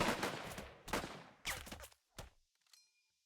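Gunfire in the strategy game Burden of Command: four or five separate sharp bursts, each decaying quickly, fairly loud at first and then thinning out, ending in near silence with a faint high tone.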